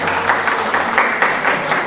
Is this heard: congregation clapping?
yes